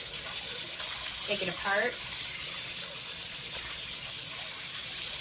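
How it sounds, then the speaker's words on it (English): Running water from a sink tap streams steadily while items are rinsed under it, a continuous broadband wash with a person speaking briefly over it near the start. "And what we do is just go in here, rinse off our stuff"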